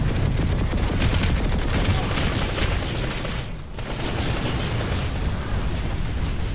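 Gunfire in the video game Planetside 2, dense rapid automatic shots and bursts from many weapons forming a continuous loud barrage with distant explosions, a voice faintly underneath.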